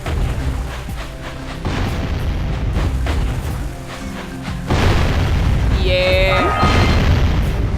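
Enemies blow up in the Jak and Daxter video game: a dense run of loud booming explosions and crashing bursts over a steady rumble, briefly joined by a short spoken word.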